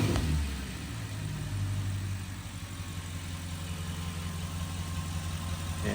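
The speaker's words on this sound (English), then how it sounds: "So just hear how the engine is sounding." Audi 4.0 TFSI V8 idles steadily just after a spark plug replacement, a deep, even low rumble running close and continuous with no misfire stumbles or talk.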